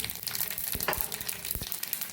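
Cumin seeds, mustard seeds and dried red chillies sizzle and crackle in hot ghee, with a few sharp pops over a continuous frying hiss.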